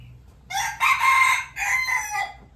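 A rooster crowing once, loud and close, a long strained call in several rising and falling segments over a quiet background.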